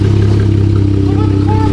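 A car engine runs steadily as the car is driven, a continuous low rumble with a faint rising whine, heard close by with some background voices.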